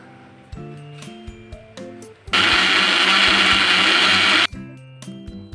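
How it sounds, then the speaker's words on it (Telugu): A mixer grinder whirs loudly for about two seconds, blending fenugreek seeds into a paste for a hair pack, with quieter clinks and pauses before and after the burst of grinding. "మిక్సీ పెట్టేసుకొని పేస్ట్లా చేసుకోవాలి"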